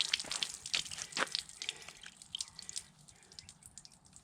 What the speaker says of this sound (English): if you ever want to get the water out of the block